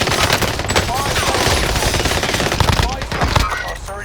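Rapid automatic gunfire from a Fortune's Keep battle-royale match, loud and nearly continuous, with bursts of shots layered over dense in-game action noise for about four seconds.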